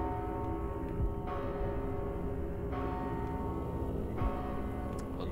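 A bell in Mortal Shell tolls steadily, its strikes landing roughly every second and a half with long, ringing overtones that hang and overlap, fairly quiet and alone.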